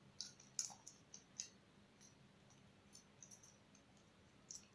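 Small plastic clip of a budget lavalier microphone being clicked, several quiet sharp clicks at irregular intervals, close to the mic over a faint low hum.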